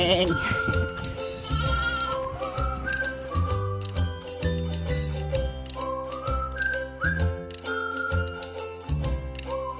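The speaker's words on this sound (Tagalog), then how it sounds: "Ay, kambing!" Goats bleat repeatedly on a farm resort in Alitagtag, Batangas, their wavering calls rising over music and people talking close by.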